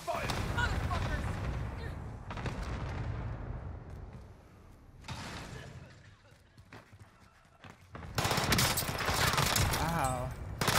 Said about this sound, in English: Here's the airstrike target. Cluster strike.